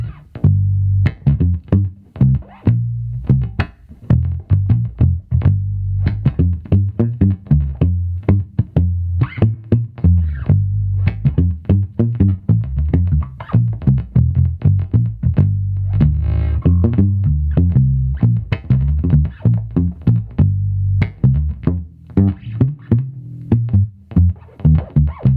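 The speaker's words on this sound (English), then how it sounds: "we'll do a little palm muting stuff too, just to kind of demonstrate that" A distorted Fender American Original '60s Precision Bass plays short, chugging palm-muted notes in a steady rhythm, with low thick tone and clipped attacks.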